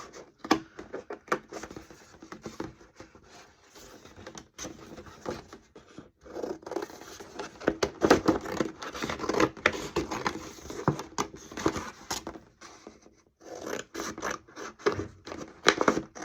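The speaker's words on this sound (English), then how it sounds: "Just use scissors." Scissors cut paper up close, quiet irregular snips and rustling scrapes running on and off with brief pauses and no talk.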